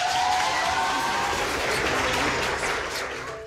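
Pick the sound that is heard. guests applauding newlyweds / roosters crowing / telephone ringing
guests applauding newlyweds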